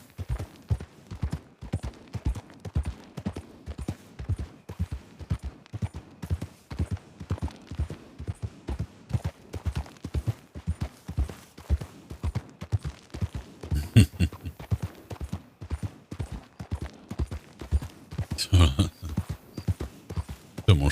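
Steady clip-clop of horse hooves in a western-style video game, a regular brisk rhythm of hoofbeats with a few sharper bangs mixed in.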